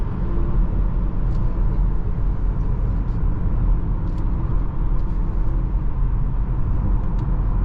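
Interior cabin rumble of a 2024 BMW X5 40i M Sport accelerating on the road, a loud, steady low engine and road drone with no talking.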